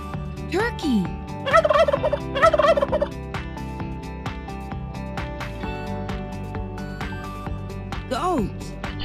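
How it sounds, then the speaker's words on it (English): A turkey gobbles in two rapid rattling bursts over steady background music, followed by short higher calls near the end. "Turkey."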